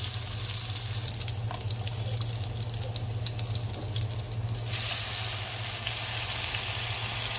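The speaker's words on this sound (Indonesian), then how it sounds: "kemudian bawang bombenya akan saya tumis" Onion sautés in a pan with a steady, soft sizzle and crackle over a constant low hum, with a slight lift in the frying noise partway through.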